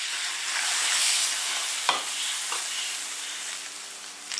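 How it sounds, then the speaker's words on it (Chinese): Mutton and pork tripe stir-fry in an iron wok, a steady close sizzle and hiss with a sharp scrape or clack of the spatula partway through. "炒香加水。"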